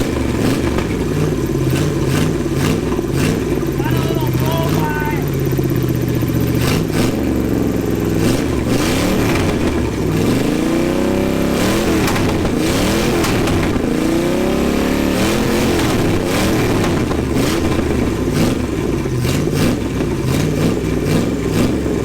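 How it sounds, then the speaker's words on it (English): Junkyard small-block V8 that sat for 29 years, running with open headers and no valve covers, idling roughly and then revving repeatedly in loud, close bursts, with a brief voice early on. "Do you like hearing engines rev up?"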